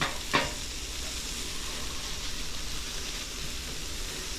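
Italian sausage, onions and peppers sizzling on a griddle: a steady, close, crackling frying hiss throughout, with a sharp metallic tap near the start.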